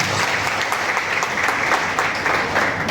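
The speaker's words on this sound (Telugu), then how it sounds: "ఆనందంగా ఉందనుకున్న మరొకసారి గట్టిగా చప్పట్లు కొట్టాలి." Steady applause from an audience at a public meeting in Srikakulam, dense clapping filling the whole stretch at an even level with no voices rising above it.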